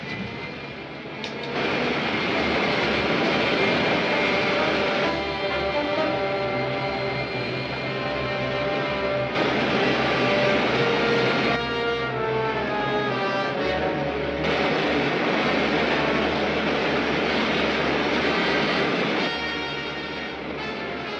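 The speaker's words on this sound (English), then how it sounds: "Fire main jets." Rocket ship main jets fire in a vintage film-serial sound effect, a loud continuous roaring rumble with shifting whine, sustained for about twenty seconds without speech.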